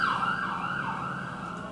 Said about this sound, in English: And there's a siren.